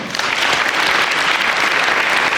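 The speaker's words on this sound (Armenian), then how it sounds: "Անահիտ Կիրակոսյան, եկեք ծափարենք։" An audience at a television studio show breaks into loud, dense applause, a steady wash of clapping from many hands that lasts throughout with no break.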